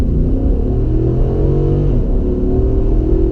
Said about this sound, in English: Let's see how it accelerates out of the bus lane.